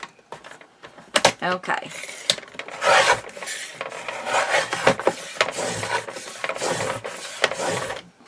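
Paper being cut for a bird watcher journal and mini album, a steady rasping, scraping cut running for several seconds close by, with a short spoken word near the start.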